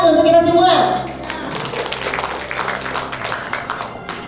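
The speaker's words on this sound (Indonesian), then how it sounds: "Tepuk tangan untuk kita semua." Applause breaks out at an Indonesian team dinner gathering, a dense, steady patter of many hands clapping after a brief sung or spoken note at the start, continuing for several seconds.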